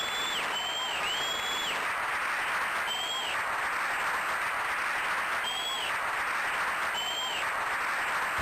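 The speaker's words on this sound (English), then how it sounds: "look at that applause. It's so slightly awkwardly too long." Applause sound effect played during a livestream: a dense, steady wash of crowd clapping that runs on evenly for the whole stretch, loud and unbroken, with thin tonal chirps overlaid.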